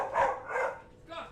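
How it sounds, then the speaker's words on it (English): A pet dog barks a few times indoors, short muffled woofs spaced irregularly at moderate distance, slightly faint. "Well, I think you heard my dog"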